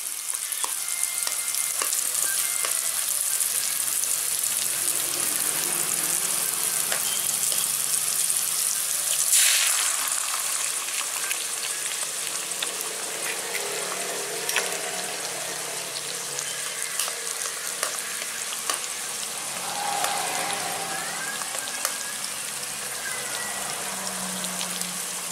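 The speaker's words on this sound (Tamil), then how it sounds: "முட்டை நல்லா வறுத்தாச்சு" An egg fries in a pan for pepper egg rice, a long steady hiss of sizzling oil with soft crackles and a few faint stirring touches, fairly quiet and continuous with no talking.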